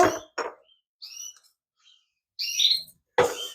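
Pet birds chirp in a breeding room, giving scattered short tweets and bright calls with gaps of silence between them, close and moderately loud, alongside a few soft thuds.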